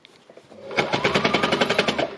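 A fabric embellishing machine needle-punches cloth, starting up after a short quiet moment into a close, rapid, even mechanical chatter of repeated strokes that runs steadily to the end.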